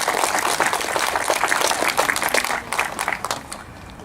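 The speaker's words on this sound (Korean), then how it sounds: "다시 한번 큰 박수" Loud, dense applause from the audience at a commemorative ceremony for Ahn Jung-geun, many hands clapping close by, holding steady and then tapering off toward the end.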